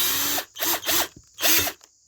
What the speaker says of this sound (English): I've gone up to a 7mm drill. And you can see here, I'll just slowly drill it out.